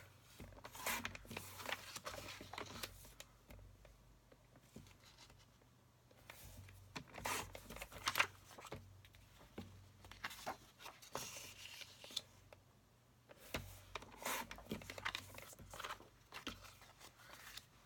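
Faint scraping and slicing of cardstock being trimmed to size for a handmade card, with quiet intermittent cuts and rustles spread across a soft, close background.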